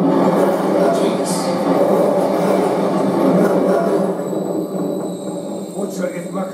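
Rumbling train from the Call of Duty Modern Warfare III game, a steady low rolling drone with rail clatter under game music and effects, fading slightly near the end.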